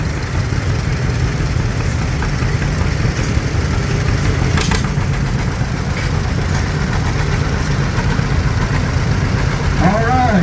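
A 1947 John Deere B tractor engine runs steadily and loudly close by at an antique tractor and truck show, a constant low rumble with faint voices in the background.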